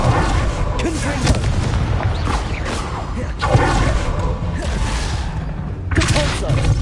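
Repeated booming spell blasts, including the Confringo explosion spell, thud through a busy, loud combat scene in the Hogwarts Legacy video game, with a voice speaking over the continuous clamor.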